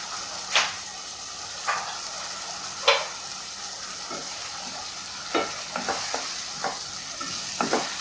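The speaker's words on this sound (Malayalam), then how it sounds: "നല്ലപോലെ ഒന്ന് ഇളക്കിയിട്ട് ഇത്രയേ ഉള്ളൂ." Schezwan vegetable fried rice stirred in a pan with vinegar and a pinch of sugar, a steady sizzle under a handful of scattered spatula scrapes and taps, close and alone with no talk.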